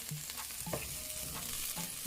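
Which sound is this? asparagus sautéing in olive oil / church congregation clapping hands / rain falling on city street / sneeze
asparagus sautéing in olive oil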